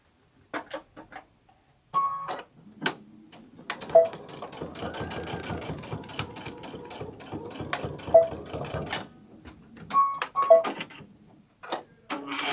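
A sewing machine stitches a sunflower wall hanging at 2.5 stitch length, short bursts of rapid mechanical whirring and clicking, a longer steady run in the middle, separated by pauses, close and clear.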